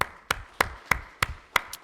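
A church congregation claps in unison, six crisp, evenly spaced claps in a steady rhythm, fairly quiet and alone.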